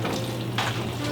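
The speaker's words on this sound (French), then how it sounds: "On mélange, tourne et retourne." Steady sizzling from a hot pan as macaroni pasta is stirred with Parmigiano Reggiano cheese, with a brief brighter scrape of utensil midway; continuous and close.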